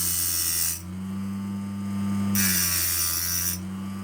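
Hand file scraping across a Ford 302 piston ring, a steady rasping stroke repeated in three bursts over a constant low mechanical hum, close and moderately loud.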